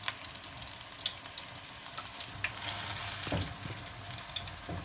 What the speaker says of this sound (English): here I'm going to leave the pakoras in there to fry until the color changes to golden